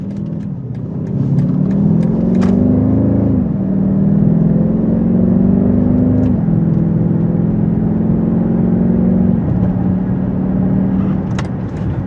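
A 2021 BMW X6 M50i engine pulls hard and loud on a test drive, its pitch climbing then dropping at each gear shift as it accelerates steadily, with no talking.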